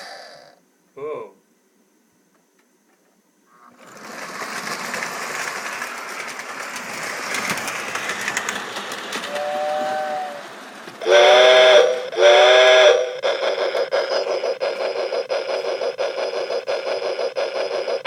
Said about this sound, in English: I run my train.